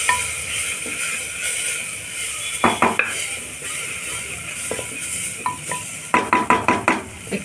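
A spoon stirring raw mango dal in a metal pot, soft scraping under a low sizzle, punctuated by clinks against the rim and a quick run of rhythmic taps near the end.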